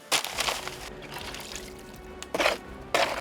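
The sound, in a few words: water poured into cement mix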